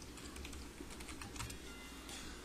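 Rapid, close clicking of keys on a computer keyboard while someone types commands for a text adventure game, with no voices.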